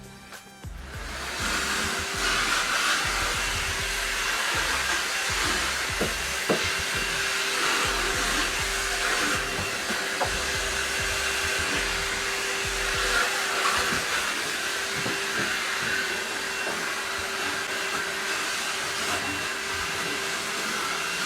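A Dirt Devil 3-in-1 Cordless Reach Max Plus vacuum cleaner runs steadily after starting up, a loud continuous suction whine with faint debris rattles and bumps.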